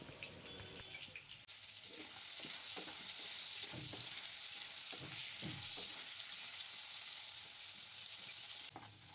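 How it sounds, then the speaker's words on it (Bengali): Potato pieces fry in a little white oil in a kadai, a loud, continuous hissing sizzle with occasional stirring scrapes underneath, heard close up without talk. "আলু ভালো করে ভাজা হয়ে গেছে"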